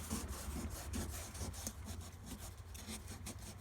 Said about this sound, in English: You can kind of just line it up here and you give it a little rub with your finger